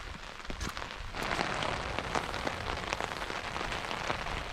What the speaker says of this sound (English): it's been just for the last hour or so, raining on and off, heavy at times